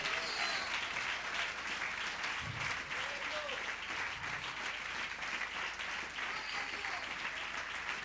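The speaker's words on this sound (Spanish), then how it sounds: "Den un fuerte aplauso al Señor y alabe lo que Él vive." A church congregation applauds loudly and without a break, a dense, even wash of many hands clapping, with faint voices and cheers mixed in.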